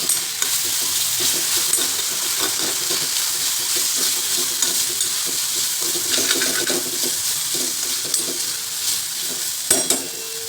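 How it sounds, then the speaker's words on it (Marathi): Sweet potato is sautéed in ghee with dry fruits in a pan for a fasting-day kheer, heard as a continuous close sizzle with spoon stirring and occasional scrapes against the pan, without speech. "आपण हा रताळ्याचा खीर तो घालायचा, परतून घालायचा"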